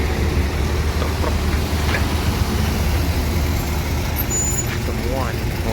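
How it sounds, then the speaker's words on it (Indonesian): Heavy trucks roll onto the Virgo 18 ferry while buses queue to board, a steady low diesel rumble with a brief air-brake hiss and faint voices nearby. "Truk-truk."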